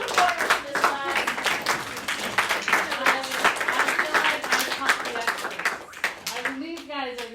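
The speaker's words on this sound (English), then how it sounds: "we applaud the reporters for this time" A small group claps for the reporters, a dense run of hand claps of moderate loudness with voices briefly speaking as the applause fades.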